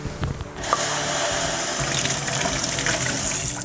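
Kitchen tap water running into a yogurt pot as it is rinsed out, a steady close gushing splash that starts after a brief clatter and continues to the end.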